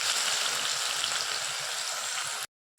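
Onions and mustard seeds fry in oil left over from frying bitter gourd, giving a bright, dense sizzle with faint crackles that runs steadily, then cuts off abruptly near the end.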